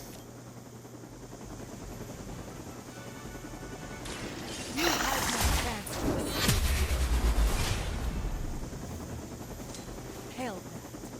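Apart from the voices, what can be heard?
helicopter in the video game Marvel's Midnight Suns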